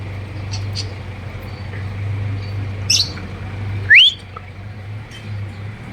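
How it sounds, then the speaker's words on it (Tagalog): A small bird gives a few quick chirps, then one loud rising whistle-like call, close by over a low steady hum in an otherwise quiet room. "Yan na yung ibon ko."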